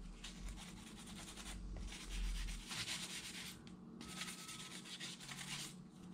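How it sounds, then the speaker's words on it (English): Steady back-and-forth rubbing of a fine sandpaper sponge over a light switch cover, a continuous close scratchy sanding with slight swells in intensity and no talking. "This is a really fine sandpaper sponge, and it does the job perfectly."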